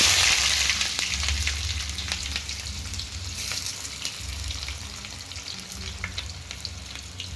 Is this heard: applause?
no